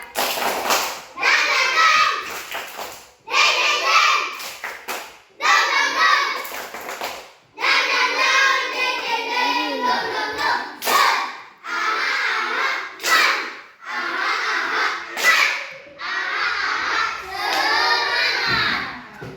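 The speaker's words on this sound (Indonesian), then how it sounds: "ayo mari kita tepuk semangat" Schoolchildren in an Indonesian primary classroom clap out a rhythmic 'tepuk semangat' chant, voices shouting along in bursts between patterned claps, lively and close.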